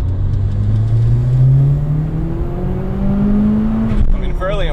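A Mitsubishi Evo IV with a stock turbo revs close by, its engine note rising and falling in pitch beneath ongoing conversation.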